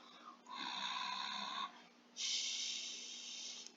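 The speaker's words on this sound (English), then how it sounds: "there was a really loud snore" Loud snoring from a sleeping cartoon character in the animated series Toad & Jewel's Handy Adventures, two long, rasping, drawn-out snores, close and alone.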